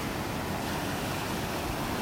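Ocean waves breaking on the shore on a beach in North Naples, Florida, heard as a steady, loud, broad wash of surf with some wind, with no talk.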